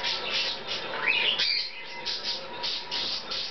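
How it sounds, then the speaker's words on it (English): An umbrella cockatoo, a hand-fed young male, gives a few faint, high, squeaky calls and chirps, mostly brief and in a short cluster near the start, against a steady background hiss. "This is an umbrella cockatoo, hatched February 1st, 2013."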